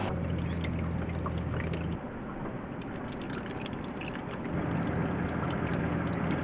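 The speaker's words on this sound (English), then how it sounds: "the sink and the shower are on full now" A sink tap and a shower in a converted Transit van run on full, giving a steady rushing hiss of water with a low hum that cuts out partway and then returns, close and alone.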